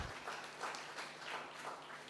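Audience applause for a novelist at a literary talk, a soft, fairly distant wash of clapping that swells in gentle pulses for a couple of seconds.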